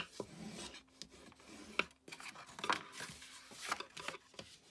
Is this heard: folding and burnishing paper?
yes